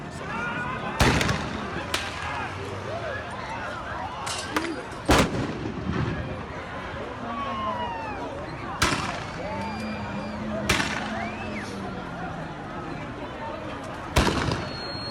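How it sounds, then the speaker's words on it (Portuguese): Several sharp rubber-bullet gunshot bangs go off at irregular intervals over a noisy crowd in a packed square in Barra do Jucu, Vila Velha, with voices and chatter throughout. "Até tiros de bala de borracha foram disparados."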